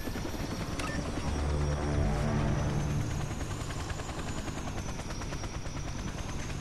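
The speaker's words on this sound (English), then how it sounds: "See the chopper I got in?" Helicopter in the video game Toy Soldiers: War Chest, a steady rotor whir at moderate level mixed with scattered game gunfire and battle noise, with no talk.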